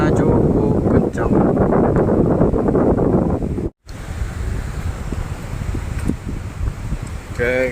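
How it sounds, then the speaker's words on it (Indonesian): Strong wind blowing across a mountain hiking trail on Gunung Haur Bunak, a steady broadband roar buffeting the microphone throughout, briefly cutting out near the middle before resuming slightly lighter. "Anginnya cukup kencang."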